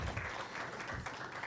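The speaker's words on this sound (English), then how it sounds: "Another round of applause." An audience at an open government event claps in another round of applause, a brief, faint, steady patter of many hands.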